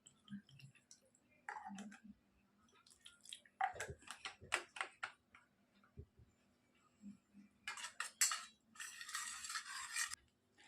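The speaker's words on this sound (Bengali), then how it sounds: "কর্নফ্লাওয়ারটা গুলে নিচ্ছি সামান্য জল দিয়ে।" Cornflour with a little salt being stirred with a bit of water in a bowl, producing irregular clicks, taps and scrapes of a utensil against the bowl, fairly faint, with pauses between bursts.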